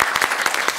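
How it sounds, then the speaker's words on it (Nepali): A live audience at a Nepali dohori song event gives a short, dense burst of applause, with quick overlapping claps at close range. "त्यस कारण अगेनोलाई जोरदार ताली दिउँ"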